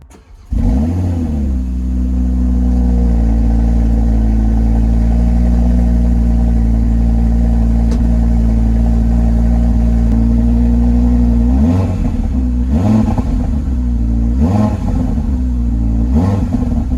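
An Audi RS3 8Y fires up from cold, its engine catching with a sharp rev and then settling into a loud, steady high idle, with a few quick blips of the throttle near the end.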